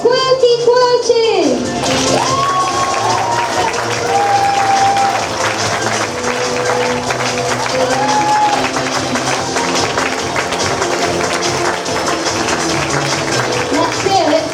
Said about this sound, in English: Let's have a massive round of applause for Quirky Quirty.